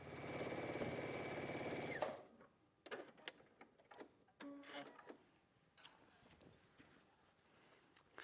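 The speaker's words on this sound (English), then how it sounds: "match up my seams, and sew across the bottoms" A sewing machine stitches across the bottom of a quilted bag with a loud, fast, steady mechanical whir for about two seconds, then stops, leaving faint clicks and handling noises.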